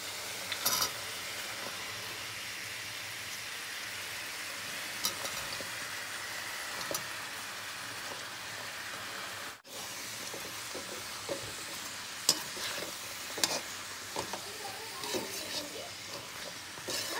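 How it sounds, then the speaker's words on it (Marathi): Cluster beans sauté in a pan for a mixed five-vegetable dish, giving a steady, close sizzle throughout with scattered scraping clicks and taps as they are stirred, and no talking. "गव्हाची 2 मिनिट परतून झाल्यानंतर लगेच आपण भोपळा आणि पडवळ घालू"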